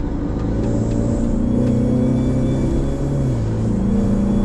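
A modified Ford Mustang idles and revs, its engine and exhaust giving a deep, steady rumble with a slight rise in pitch, heard close and alone.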